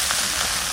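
Pieces of bottle gourd dropping into a pan of frying potatoes set off a loud, steady hiss of sizzling oil that fills the whole moment, with no voices over it.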